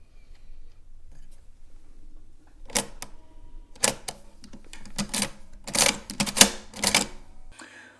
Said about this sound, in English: by pressing the control lever, you can press it 5 times and watch the ring work its way down to 0